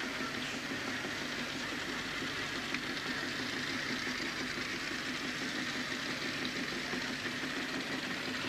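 A vintage Norton motorbike engine runs steadily in a show arena, a low continuous rumble with a fairly even, slightly knocking pulse, moderately distant and faint, with no talking.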